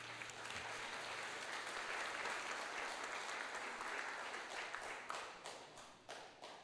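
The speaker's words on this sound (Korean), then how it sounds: "잠시 자리에서 일어나시면 우리 박수로 환영할까요?" A church congregation applauds to welcome guests, sustained clapping from many hands in a large room that thins into scattered claps toward the end.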